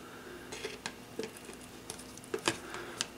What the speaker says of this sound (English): You can completely scrape the sides.